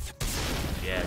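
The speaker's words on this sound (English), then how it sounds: "Yeah, grenades." Grenade blast in the Mass Effect video game, a sudden broadband boom after a brief near-silent gap, followed by a sustained loud roar of debris and rumble lasting about a second.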